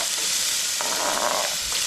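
Onion hits hot oil in a pan for potatoes and smoked fish, producing a short, loud, continuous sizzle up close with faint stirring scrapes and no voices.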